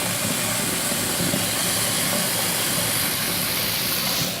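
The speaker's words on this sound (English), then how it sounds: "this is that noise was the rain" Heavy rain pours outside in a dense, continuous broadband hiss, loud and steady throughout with no breaks.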